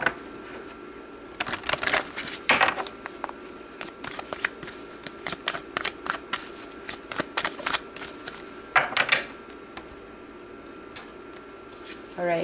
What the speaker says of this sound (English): Let's continue to pull cards and add more to it.